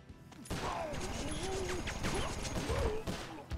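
Gunfire in a Sly Cooper: Thieves in Time sniper sequence, a dense run of sharp shots and crashing impacts layered with game sound, with a voice talking over it.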